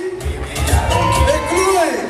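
Crowd at a live event cheering and whooping, with a few rising shouts over a broad wash of noise, fairly close and lively.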